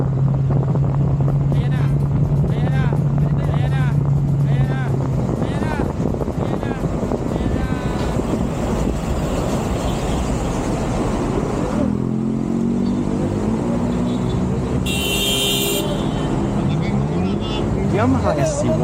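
A Yamaha SC150 motorcycle rides along an expressway, its engine droning steadily and fairly loudly throughout with rushing road and wind noise. Someone narrates over the engine the whole time.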